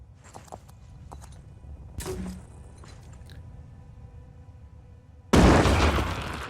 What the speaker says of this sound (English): Let's do a bomb here to start off with.